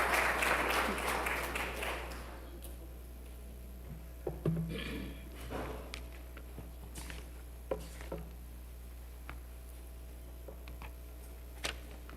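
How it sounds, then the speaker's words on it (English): Brief congregational clapping at an Igbo Anglican Sunday worship service, a dense burst for about two seconds that quickly dies away into scattered taps, shuffling and room hum. "Let's clap for them, please."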